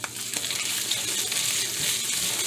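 Pork chorizo frying in a frying pan, a dense, steady sizzle and crackle of fat close by, continuous and fairly loud without any talk.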